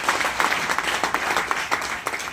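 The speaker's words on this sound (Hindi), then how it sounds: "एक बार तालियां मारना अपने लिए।" An audience claps in applause at a business talk, a dense, steady patter of many hands with small surges, fairly close and continuous, without voices over it.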